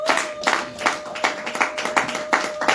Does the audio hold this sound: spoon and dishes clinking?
no